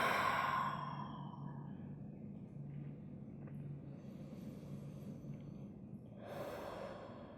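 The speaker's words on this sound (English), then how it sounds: "Exhale through your mouth." A long, audible exhale through the mouth opens the moment, fading into quiet breathing, then a second softer breath out near the end, close and alone during a calm yoga session.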